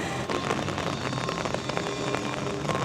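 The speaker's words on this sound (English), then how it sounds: "I love the sound of rain." Steady rain pours down at a theme park, a dense continuous hiss of drops striking surfaces with scattered louder splatters, no voices over it.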